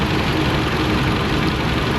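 A car engine idles steadily at close range in a repair shop, a continuous low rumble with no breaks and no talking.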